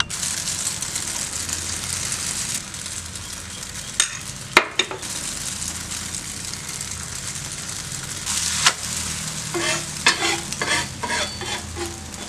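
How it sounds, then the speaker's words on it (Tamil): Vegetable egg omelette batter fries in a pan with a steady, close hiss. A few sharp taps and scrapes of a utensil cut through the sizzle, mostly in the middle and toward the end. "நான் இன்னொரு ஆம்லேட்டும் உங்களுக்கு ஊற்றி காட்டுறேன்"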